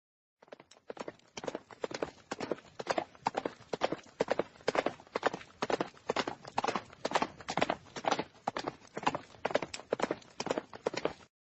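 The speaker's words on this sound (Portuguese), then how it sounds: "eu ouvi barulho de cavalos trotando" Horses trotting, a steady, even clip-clop of hooves that runs without a break for over ten seconds, fairly faint and with no voices.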